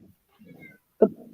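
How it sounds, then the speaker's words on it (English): A house cat meows close by, with a soft, low murmur first and then one sharp, loud meow near the end, heard in a quiet room where someone is crocheting. "That's my cat."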